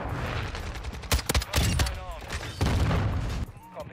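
Rapid gunfire from an EBR-14 marksman rifle in a Call of Duty multiplayer match, loud sharp shots in quick bursts with booming tails over busy game noise, with a voice talking over it.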